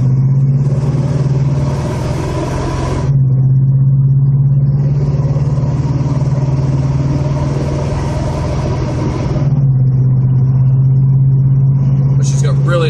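Engine of a 1979 Chevy El Camino running loud and close, with a strong low drone that rises and holds as it accelerates, its tone shifting between revs.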